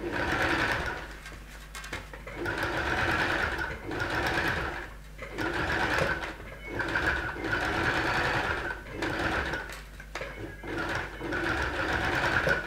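Domestic sewing machine running steadily while stitching an embroidery line on a garment refashion, its motor hum rising and falling in repeated bursts of several seconds with brief pauses between runs, close and fairly loud.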